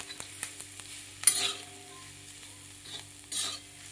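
Ground green chili and peanut paste being stirred in a hot pan, with soft scraping strokes over a quiet, steady sizzle and a few brief louder scrapes.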